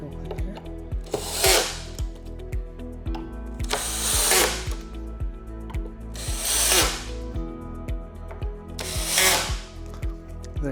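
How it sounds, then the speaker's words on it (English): A power drill drives screws into a bed frame in four bursts of whining, rattling drive about two to three seconds apart, with a ratcheting, clicking mechanism and low hum filling the gaps, close and fairly loud, with no talking. "I'm going to tighten my screws real quick here."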